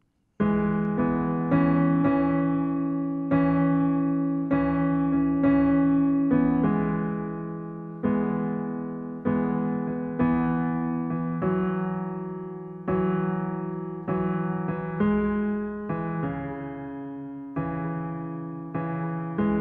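Piano chords from a song ring out one after another in a slow, steady progression, each struck and left to decay, played alone and moderately soft.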